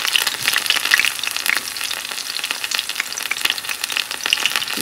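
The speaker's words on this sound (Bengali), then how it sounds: "সর্ষের তেল দিয়েই কিন্তু ভাজা করছি" Pumpkin flower fritters frying in mustard oil give a steady, close, dense sizzle with small crackling spits and pops scattered throughout, no voices over it.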